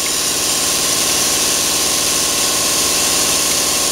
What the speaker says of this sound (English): Once we start pulling a steady stream of fluid out of our vacuum pump, then we know the system is bled